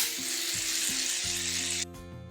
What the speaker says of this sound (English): give this a good shake, and now just go crazy and cover the whole plate in shaving foam